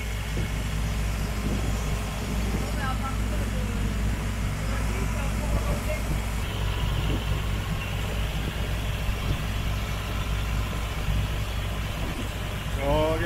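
A car engine drives a boat on a trip to Korong Island, a steady loud idling drone running throughout with faint voices beneath it.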